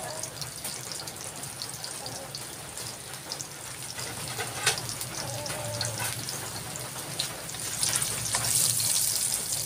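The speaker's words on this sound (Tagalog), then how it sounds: "Konting gisa-gisa lang para masarap yung lasa at ang amoy ng bawang at sibuyas." Garlic and onion sautéing in a pan, a steady moderate sizzle with soft stirring and scraping sounds throughout, growing a little louder and brighter near the end; no one speaks.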